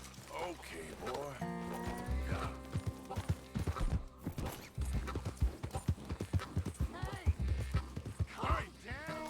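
Horse hooves clip-clopping during riding in a video game, a steady close rhythmic clatter with a whinny, under ongoing character dialogue and music.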